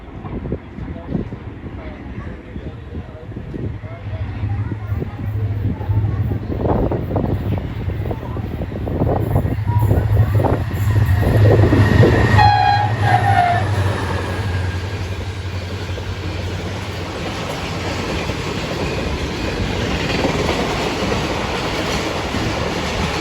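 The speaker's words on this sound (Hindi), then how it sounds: "ज़बरदस्त रफ्तार में गुजरी है 36 डाउन सर सईद एक्सप्रेस" Sir Syed Express, 36 Down, hauled by a GM diesel locomotive, rushes through Jungshahi station at speed, a steady loud rolling roar with a low sustained horn tone in the middle and voices audible underneath.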